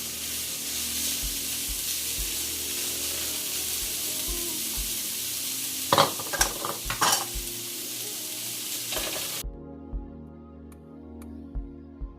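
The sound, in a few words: crawfish tails heating in a pan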